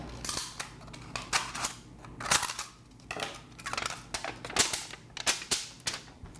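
Snips cut through an aluminum sheet, giving a series of sharp, crisp metallic snaps and crunches that repeat irregularly at close range, with no talking.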